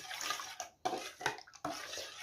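Cold water pours from a container onto powdered gelatin in a kitchen, a steady splashing stream in several short bursts separated by brief pauses.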